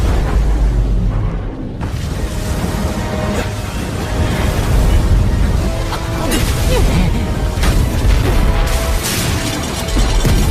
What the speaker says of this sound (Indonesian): Ledakan kekuatan formasi ini cukup dahsyat.